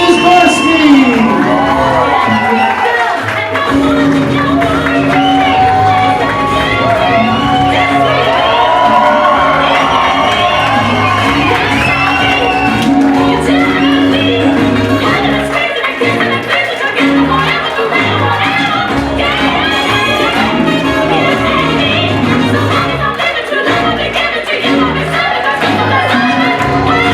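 A large wedding reception crowd cheers loudly for the bride and groom, with whoops, shouts and excited voices blending into a continuous roar of celebration.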